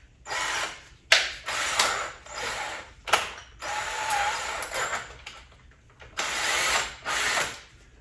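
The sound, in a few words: drilling wood with a 3/4 inch paddle bit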